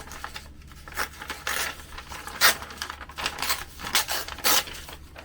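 Paper, a map sheet, torn by hand for a collage, heard as several close, crisp bursts of ripping and crinkling spread over a few seconds with short pauses between them.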